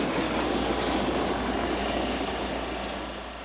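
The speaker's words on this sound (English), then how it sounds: "The service is formed of Class 4020 electric unit number 303." Class 4020 electric multiple unit number 303 calling at Clam-Schottwien station, a steady loud rumble of the train with faint wheel clatter throughout, easing slightly toward the end.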